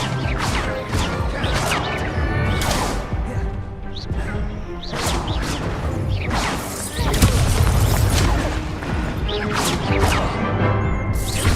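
The Descendo spell in the Hogwarts Legacy video game slams an object down, producing a string of heavy, loud crashing impacts at irregular intervals over a dense, continuous bed of game music and effects.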